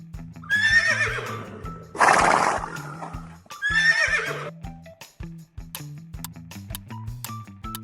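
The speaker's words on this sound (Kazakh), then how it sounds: "Жылқы." A horse gives two loud, high whinnies separated by a burst of noise, with rhythmic hoof clip-clops running underneath and short clicks at the end.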